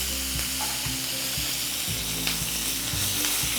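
Tempering spices fry in hot oil for an Ugadi dish, giving a continuous, loud, close sizzle with faint stirring clinks and no voices.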